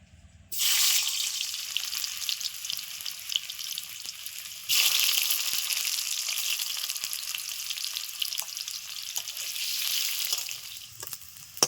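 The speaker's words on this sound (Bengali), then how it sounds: "আলুগুলো হালকা করে ভেজে নেব আলুগুলো কিন্তু আগে থেকে সেদ্ধ করা" Boiled potatoes fry in a kadai of leftover oil for a cabbage dish, a loud, steady sizzle that starts abruptly, swells again midway and crackles on continuously, with faint stirring clinks and no talk.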